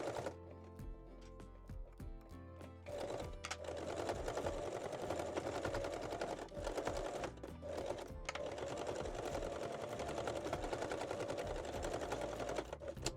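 A sewing machine runs a straight stitch along a folded seam allowance on a bralette or bikini top, starting with a few separate clicks, then settling into a rapid, continuous mechanical chatter with brief pauses, close up.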